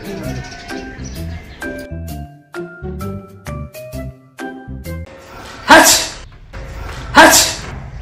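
Two sudden, loud sneezes burst out a second or so apart, following a stretch of light tinkling music.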